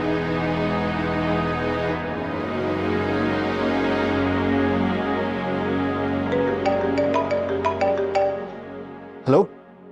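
A mobile phone ringtone plays a repeating melodic tune for several seconds in a domestic drama scene, with people talking over it and a sharp final burst near the end.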